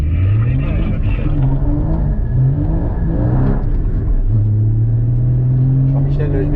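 Car engine revving up as the driver presses the accelerator during a driving course at Chenevières, a steady low rumble rising in pitch under continuous talk from an instructor.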